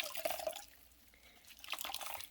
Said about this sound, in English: I'm just rinsing it off again under my faucet